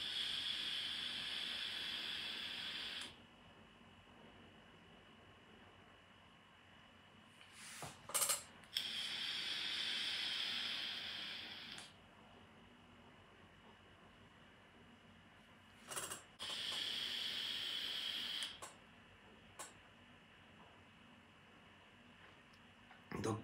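A Lost Vape Grus 100 mod fired for a vapour production test gives three sustained hissing, faintly crackling draws of a few seconds each, close up, separated by quieter pauses with a few small clicks.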